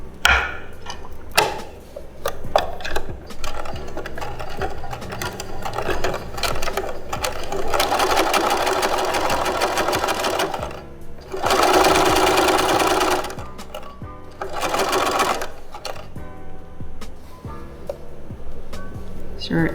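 A sewing machine stitches a square bag seam in several loud, rapid bursts separated by brief pauses and handling noises, with a voice speaking between runs.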